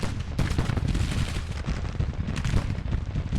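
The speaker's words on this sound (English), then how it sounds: "Get the skirmishers to shoot the artillery." Musket volleys and artillery in a Grand Tactician American Civil War battle game, a dense unbroken barrage of crackling gunfire and booming blasts that stays loud and steady throughout, with no voices.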